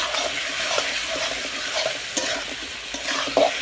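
Taro pieces stirred with salt, turmeric and chili powder in a frying pan: a spatula scrapes and clicks repeatedly over a continuous soft sizzle of hot oil, close and moderately loud, with no voices.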